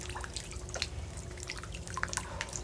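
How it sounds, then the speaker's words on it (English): Rain dripping onto an outdoor hot tub, with scattered close, crisp drops plinking irregularly over a low watery hum, fairly quiet and without voices. "Can you guys hear the dripping too much?"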